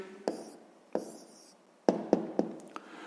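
A pen or pencil writing down the answer to a math problem, with a few short scratchy strokes and sharp taps on paper, close and quiet, no talking.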